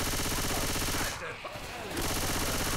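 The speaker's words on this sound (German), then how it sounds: "Ich schieße einfach auf das, was sich bewegt, ja?" Rapid bursts of automatic gunfire in the zombie shooter Left 4 Dead 2 fill the stretch with dense, loud shots, briefly thinning out midway before resuming.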